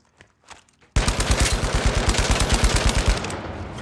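Rapid automatic gunfire from a video game erupts after a few quiet taps, a loud sustained burst of evenly spaced shots continuing to the end with no one talking.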